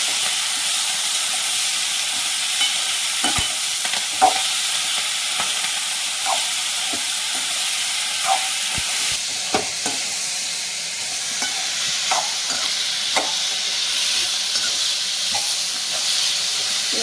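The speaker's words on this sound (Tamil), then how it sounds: "எண்ணெய் ஒரு 4 ஸ்பூன் ஊற்றி வதக்கிடணும். அப்போ தான் பிரண்டை நல்லா வதங்கும்." Perandai (veld grape) sautés in about four spoons of hot oil for chutney, a loud, even hiss with occasional spoon taps and scrapes against the pan throughout.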